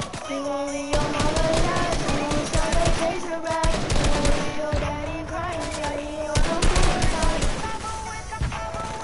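Rapid bursts of gunfire in the Fortnite video game, repeated cracking shots in quick clusters layered over game music and effects, loud and close, running through the whole stretch.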